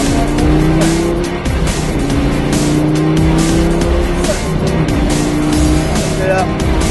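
Lamborghini engine revving hard on a race track, loud rising tones through several gear changes with tire squeal, while an instructor speaks over the noise.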